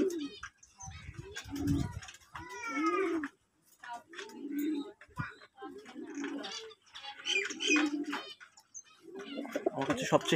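Neeldumba and Kamagar pigeons coo in repeated bursts up close, deep rolling calls separated by short pauses, with no talking.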